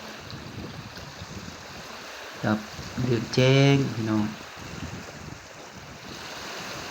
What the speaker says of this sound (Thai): คลื่นซัดเข้าฝั่งเนาะ